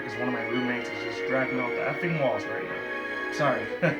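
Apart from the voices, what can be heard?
No everyday noises stand out.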